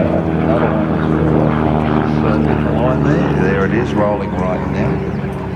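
A rare vintage propeller aircraft rolls along at a RAAF airshow in Edinburgh, South Australia. Its engine makes a loud, close, throbbing drone that eases slightly at the end, with voices talking over it.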